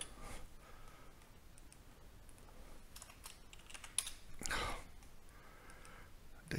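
Soft, quiet keyboard typing with scattered key clicks and a short burst of louder tapping near the end, close by with no talking.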